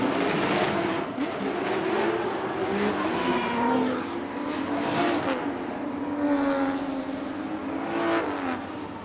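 A drift car on a Formula Drift bye run at a professional competition revs hard and continuously, its engine note rising and falling with tire squeal mixed in, loud and close, no talking.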